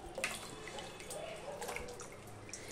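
Water poured from a container over eggplants sitting in a bowl or plate, a steady trickling splash running continuously at close range with no talking.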